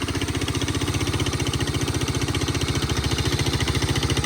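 A carbureted Suzuki Djebel 200 motorcycle engine idles steadily after starting, a close, even, rapid thumping pulse that holds a constant rhythm throughout with no voices.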